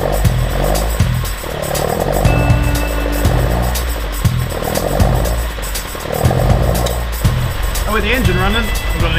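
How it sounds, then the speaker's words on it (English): Engine of an Alfa Romeo car idling while it warms up after a radiator coolant change, a steady low rumble running throughout with some clatter and voices layered over it. "So it's time to fire the car up and let it warm up for 10 minutes."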